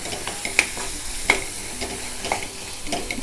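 Masala paste is fried in oil for a Konkan-style wild mushroom curry, with a spatula clacking and scraping against the pan at irregular intervals over a steady sizzle.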